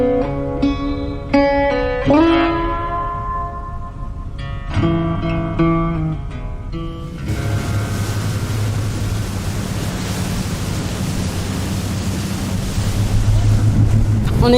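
Out at sea on a boat, steady wind and waves rush loudly and continuously, with a low engine-like hum underneath. Before that, a passage of plucked, melodic music notes plays.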